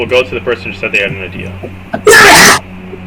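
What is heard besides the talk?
sneeze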